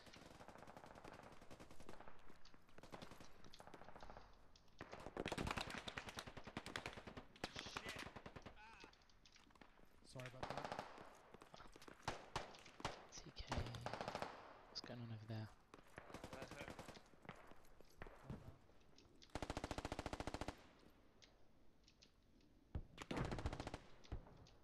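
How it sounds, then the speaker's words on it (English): Gunfire from the video game Squad, set on the Al Basrah map, comes in repeated bursts of rapid machine-gun fire and scattered single shots, near and loud. Stretches of quieter background lie between the bursts. "Shots on me."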